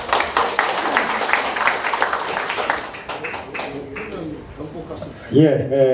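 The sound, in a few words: applause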